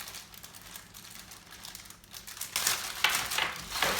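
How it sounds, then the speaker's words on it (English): Plastic bag holding CyberPower GX1325U UPS accessories crinkles up close, soft rustling at first that grows into louder, busier crumpling toward the end, with no voice over it. "So a plastic bag, it's very awesome."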